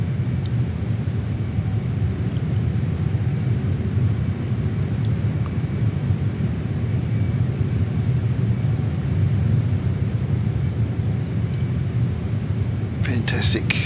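JAS-39 Gripen jet in Microsoft Flight Simulator, a loud continuous rumble with a vacuum-like whine and hiss layered over deep thunder, steady throughout and close, with a brief click near the end.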